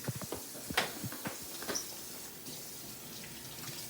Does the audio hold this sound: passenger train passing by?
no